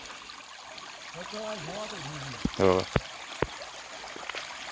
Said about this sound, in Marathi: खळखळणाऱ्या पाण्याचा आवाज येतो बघा खळखळणारं पाणी एकदम वाहतं पाणी